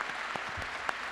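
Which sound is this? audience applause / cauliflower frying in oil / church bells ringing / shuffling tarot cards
audience applause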